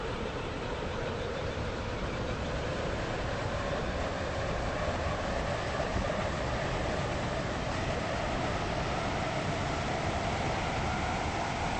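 A video-game Stepford railway train running, a continuous steady rumble and hiss of wheels on track with a faint rising drone, even and unbroken, with no voices.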